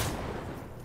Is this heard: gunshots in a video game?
yes